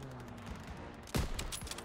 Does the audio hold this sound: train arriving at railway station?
no